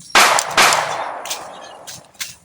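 Gunshots in a video game: two loud, sharp blasts close together, then fainter single shots echoing behind them, with a long decaying tail and no talk.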